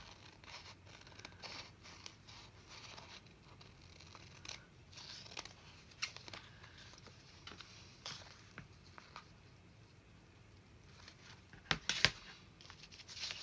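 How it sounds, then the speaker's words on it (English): Scissors snip through scrap paper for a small handmade journal, quiet scattered cuts with rustling and crinkling of paper and a few sharper snips near the end, no voices. "Cut that off."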